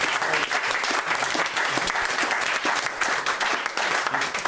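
An audience applauds after a close-up magic trick, dense steady clapping from many hands throughout, fairly loud and unbroken.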